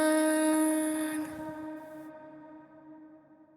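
Long decaying tail of a warm reverb plugin on a musical sound. Bright tones fade out first, then lower sustained pitches slowly die away into near silence.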